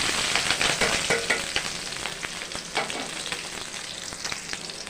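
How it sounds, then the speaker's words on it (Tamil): Mustard seeds, small onions and green chillies frying in hot oil, a steady loud sizzle with crackling pops and occasional stirring, close and unbroken, with no talking. "எண்ணெய் நல்லா காஞ்சிடுச்சு. கடுகு, வெங்காயம், பச்சை மிளகாய், ரெண்டு பச்சை மிளகாய், சின்ன வெங்காயம்"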